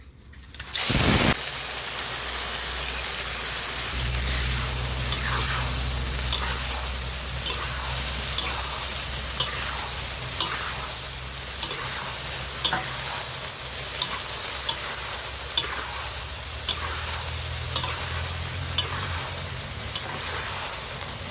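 Grasshoppers hit hot oil with a sudden loud sizzle, then steady frying crackles and hisses continuously as they fry until crisp, with occasional stirring clinks, no talking.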